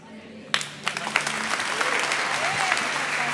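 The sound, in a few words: church congregation applauding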